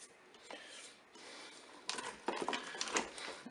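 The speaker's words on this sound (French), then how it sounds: "Je vais émietter mon cube de bouillon de bœuf." A beef bouillon cube crumbled between fingers over a pot: faint dry rubbing and gritty crushing in short bursts, growing a little louder toward the end.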